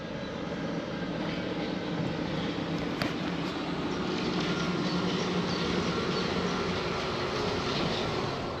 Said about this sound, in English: And I can hear that train behind me. Here it comes.